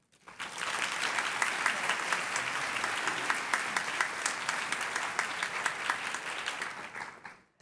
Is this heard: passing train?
no